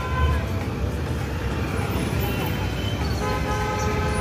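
Heavy afternoon road traffic in a Maharashtra town, a steady engine rumble with repeated car horn toots sounding over it, while voices talk faintly in the background.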